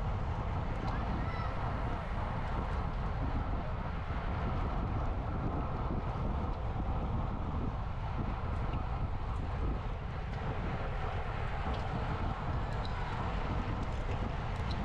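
Steady wind roar buffets the microphone of a racing bicycle, ridden head-on into the wind during the 2024 Marignane cycling Grand Prix. The rushing noise stays loud and continuous for the whole stretch, with no voices.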